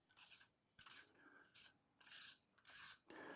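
Threaded front ring of a LEE Filters SW150 filter holder being unscrewed by hand, giving a series of five or six short, close metallic rasping scrapes in a steady rhythm, each about half a second long with brief pauses between.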